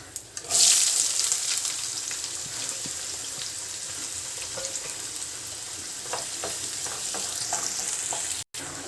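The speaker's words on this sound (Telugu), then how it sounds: "ఆనియన్ వేసుకుందాం ఇందులో" Chopped onions drop into hot oil in a pan, setting off a loud burst of sizzling that settles into a steady, crackling fry with occasional stirring scrapes, no voices over it.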